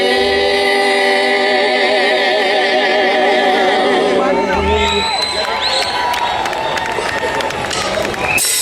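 A crowd cheering and whooping, with loud, overlapping shouts and wavering sung or held voices carrying through, later giving way to more scattered, noisy cheering close by.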